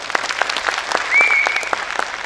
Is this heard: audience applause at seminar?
yes